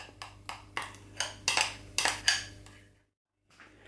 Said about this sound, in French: je verse le tout dans mon petit ramequin